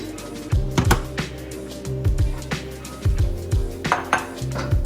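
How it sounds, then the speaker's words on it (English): Rice scooped from a rice cooker into a bowl, a series of sharp clinks and scraping knocks of the paddle against the pot and bowl, close and rhythmic. "I'm just gonna take half of my rice from my rice cooker, throw it in my bowl."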